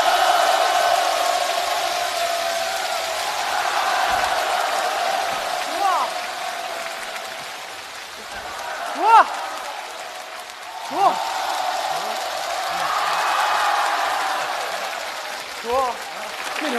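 A gala audience applauds as a comedy sketch performer is welcomed on stage. The clapping runs as a broad, even wash, with a few louder shouts and whoops cutting through now and then.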